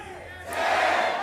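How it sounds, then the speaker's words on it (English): A studio crowd chants at a League of Legends match between Fnatic and ROC, swelling into a loud, sustained roar of voices over a short burst. "Lots of crowd chants coming out here in the studio,"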